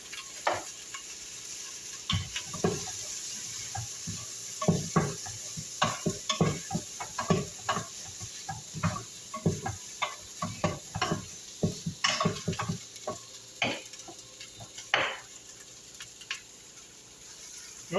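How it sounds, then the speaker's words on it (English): Metal utensil scraping and stirring pork pan drippings into chicken stock inside a pressure cooker, a steady run of short, close scrapes and clinks over a soft sizzle, with no talking. "Going to scrape up the bottom, the pan drippings,"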